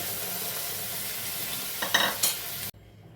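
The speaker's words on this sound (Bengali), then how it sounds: "চালটা দিয়ে আবারও পাঁচ মিনিট ভালো করে কষে নেব" Gobindobhog rice and cauliflower fry loudly in a pan with a steady, dense sizzle. Brief stirring scrapes near the end, then it cuts to near quiet.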